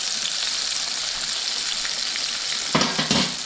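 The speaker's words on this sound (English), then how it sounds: "Love frying in my cast iron skillet" Chicken breast frying in oil in a cast iron skillet, a steady close sizzle and crackle throughout, with a few louder bursts of spattering near the end.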